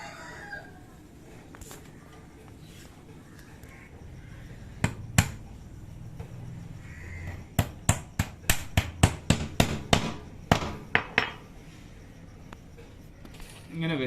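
Small nails hammered through netting into a homemade wooden bird cage, sharp taps coming in a rapid irregular cluster with pauses between, over faint background talk and household noise.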